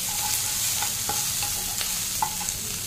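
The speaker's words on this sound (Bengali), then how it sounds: "এটা ভালো করে একটু সতে করে নেবো।" Honey garlic chicken sautéing in a pan with green chili paste: a steady, loud sizzle with occasional scrapes and clacks of a spatula as it is stirred, and no voices.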